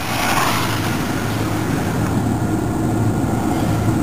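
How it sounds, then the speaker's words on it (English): Kyosho four-wheel drive RC buggy with a Castle Creation 5700 motor running at speed, giving a steady, loud whirring drone with broadband rush that holds without pause. "now we're gonna run a KYOSHO four-wheel drive buggy with the Castle Creation 5700"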